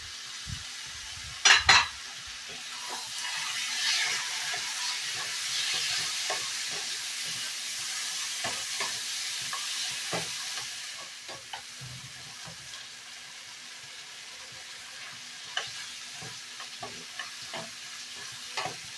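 Spice masala for a chickpea curry sizzles steadily in a pan after sour curd goes in, while a utensil gives scattered scrapes and clinks and a couple of sharp knocks near the start, with no talking.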